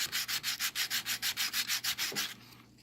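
Sandpaper scrubs the electrical contact of a Sears Suburban starter generator in about fourteen quick, even back-and-forth strokes, close and rhythmic, before stopping with a faint clunk.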